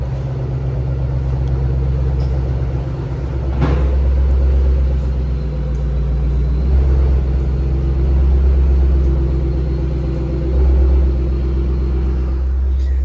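A tuned Ford GT500 with a new intake, new throttle body and a colder thermostat runs on a dyno, its engine rumbling loud and steady, rising and falling through several revs with a sharp transient partway through.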